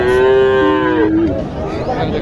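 Cattle moo loudly and close by in two long, drawn-out calls at a cattle market, with a busy outdoor crowd murmuring in the background.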